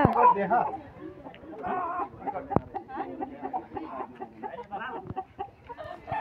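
A rooster clucks and murmurs close by in short, repeated bursts, with a few sharp knocks mixed in amid busy outdoor noise at Satau Chandithan temple in Syangja, Nepal.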